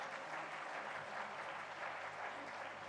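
An audience at a networking business conference claps continuously in steady, even applause, heard alone for a few seconds at a moderate distance.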